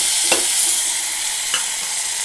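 Tomatoes hit hot oil with frying garlic while safflower-leaf bhaji is cooked, setting off a loud, steady sizzle with a couple of faint stirring clicks throughout.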